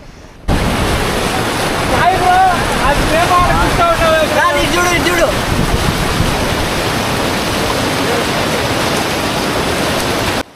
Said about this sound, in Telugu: ఎంత ఫ్లో చూడండి మీరే